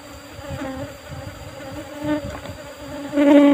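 Swarm of Apis cerana honeybees buzzing steadily and close during transfer of a colony into a cultivation hive box, growing louder near the end.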